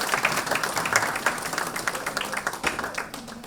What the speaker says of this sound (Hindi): ऐसे जननायकों का तालियों से स्वागत कीजिए।